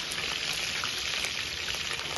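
Green chillies, curry leaves and onions frying in a pan for chicken curry, a dense, even sizzle with tiny crackles, steady throughout and heard alone.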